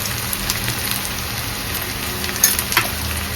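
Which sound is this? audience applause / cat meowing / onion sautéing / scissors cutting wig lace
onion sautéing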